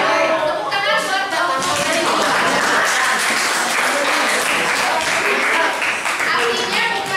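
Students in a classroom applaud a group, loud, sustained clapping that fills the room, with a few voices heard at the start before the clapping dominates.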